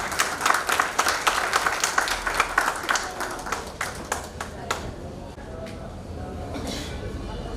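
An audience at an astrology society conference applauds as the chief guest comes to the stage, loud scattered claps in a brisk rhythm that thin out and fade over several seconds, leaving quiet room noise.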